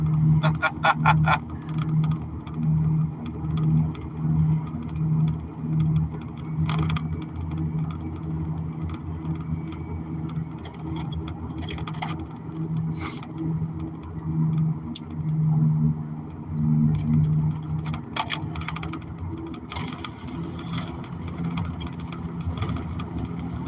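Car engine humming steadily during a drive home, a continuous low drone with mild rises and falls in pitch, with someone talking throughout.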